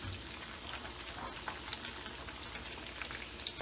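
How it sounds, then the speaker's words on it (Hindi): Basa fish fillets fry in hot oil in a pan, a steady dense crackling sizzle with fine popping, close and continuous without any talking. "फिश बहुत जल्दी फ्राई हो जाती है"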